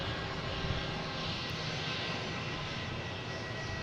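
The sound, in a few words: American Airlines Boeing 737-800 arriving from Miami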